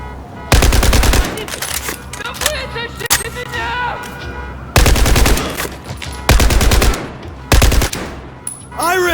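Machine gun fire from the video game Battlefield 4: loud, dense automatic bursts in several separate volleys, with shouted voices and battle noise in the gaps between them.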